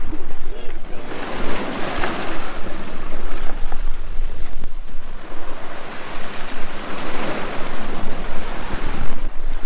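Loud waves rush and splash against a sailboat's hull moving at about 8 knots in surging swells, with strong wind buffeting the microphone.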